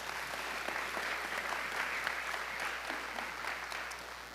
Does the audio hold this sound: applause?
yes